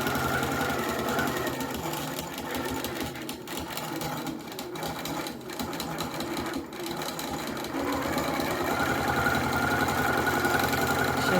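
A quilting machine stitching a fabric door banner, with a continuous dense mechanical whir and rapid needle rattle that is loud and close and holds steady throughout, rising slightly toward the end.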